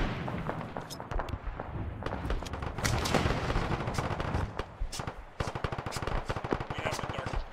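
Dense gunfire in the military video game Arma 3, rapid automatic bursts and scattered single shots layered over booming distant fire, sustained throughout with a voice occasionally faint underneath.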